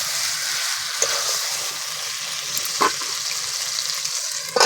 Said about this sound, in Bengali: ভালো করে কষিয়ে নিতে হবে যতক্ষণ না মাংসের কালারটা চেঞ্জ হয়